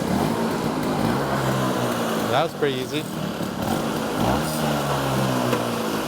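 A Stella two-stroke scooter engine buzzes in a steady, rough idle, close by, while someone speaks briefly over the droning noise.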